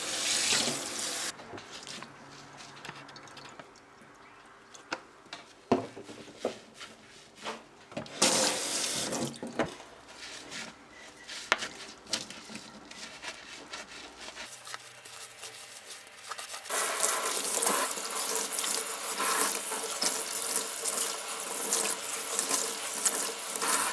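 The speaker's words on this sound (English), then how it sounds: "We're going to rinse the sponge using washing up liquid." A sponge rinsed with washing-up liquid under a running kitchen tap: water gushes and splashes into the sink, squelching and sputtering as the sponge is squeezed, then a fuller steady stream pours near the end.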